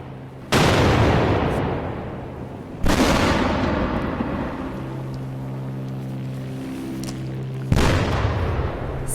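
TOW missile strikes on Syrian forces: three loud, sudden booming blasts, each with a long rumbling decay, separated by a few seconds, with a low droning hum between them.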